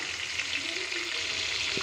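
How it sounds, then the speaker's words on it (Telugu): Green chillies frying in a pan give a soft, steady sizzling hiss that runs without a break through this short stretch. "ఆ పచ్చిమిర్చి కూడా బాగా వేగిందంటే అవన్నీ తీసేసుకోవచ్చు"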